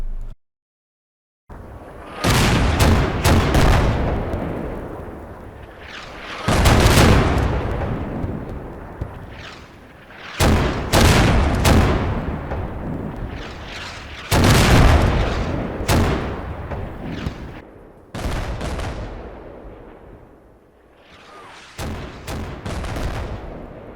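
Artillery bombardment in the WWII video game Combat Mission Final Blitzkrieg, a series of loud, heavy booming impacts and blasts every few seconds, each with a rumbling decay, some clustered in rapid volleys.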